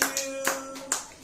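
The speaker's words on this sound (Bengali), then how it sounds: "হাততালি দাও" A few scattered handclaps from family at a small home birthday gathering, three or four soft claps spaced apart with a faint voice underneath.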